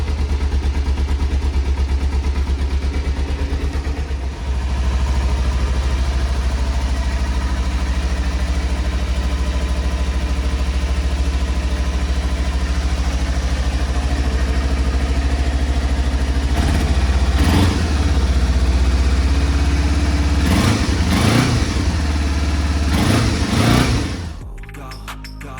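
A Kawasaki Ninja 250 fitted with a fake Yoshimura R77 slip-on exhaust idles in cold weather, a steady close engine hum with a few brief revs rising near the end before it cuts off.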